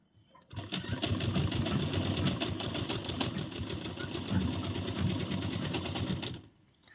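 A sewing machine runs steadily while stitching a blouse, a continuous close mechanical whir that starts after a brief pause, holds for about six seconds and then stops.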